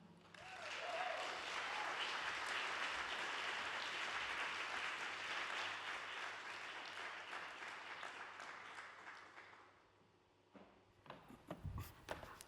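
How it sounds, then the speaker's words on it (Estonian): An audience at a political event applauds after a speech, with a sustained crowd of clapping that fades gradually toward the end before a few louder thumps and handling sounds close by. "veel kord palun aplaus selle imelise kõne eest"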